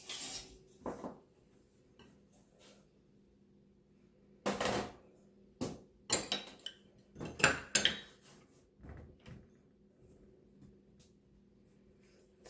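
Dry ingredients for keto cookies are stirred and knocked together in a bowl in a home kitchen, with sharp clinks and scrapes of a utensil against the dish in uneven bursts between quiet gaps.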